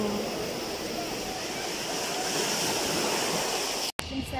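Steady broadband roar of sea waves near the Moroccan border, a continuous wash of surf close by with no distinct breaks, cut by a brief dropout near the end.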